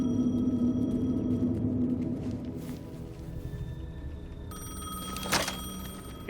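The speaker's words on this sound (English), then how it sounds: "The payphone was ringing." A payphone ringing in Alan Wake 2, a repeated electronic ring over an eerie, droning ambient background.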